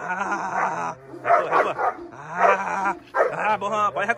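A dog barks and yips repeatedly in short bursts during aggression training, with whimpering tones between barks, loud and close, separated by brief pauses.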